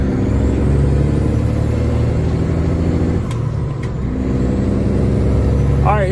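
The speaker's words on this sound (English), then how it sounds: "We'll see if I can give you the driving a truck experience here in a Freightliner Century." Steady low diesel drone of a Freightliner Century semi truck hauling a load of bottled water, heard from inside the cab, loud and continuous with a brief dip midway.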